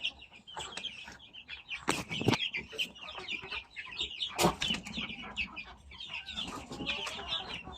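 Free-range chickens in a backyard, including large shamo birds, cluck and squawk close by with a busy, overlapping chorus and a few louder bursts like wing flaps, with no talking.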